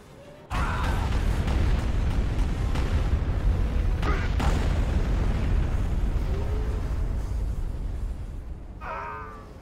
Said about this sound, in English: Our base is under attack. Bombardment incoming.